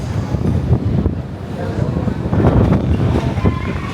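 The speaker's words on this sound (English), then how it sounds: "It is terribly windy" Strong wind buffets the microphone aboard the cruise ship Celebrity Beyond in the Caribbean, a steady, heavy rumble with gusts rising and falling throughout.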